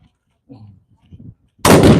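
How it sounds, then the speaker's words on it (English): Faint murmuring voices, then a single loud historic rifle shot cracks out abruptly and booms at close range during a firing demonstration at Halifax Citadel, Nova Scotia. "That's the rifle demo. So you can see just how quick it can fire."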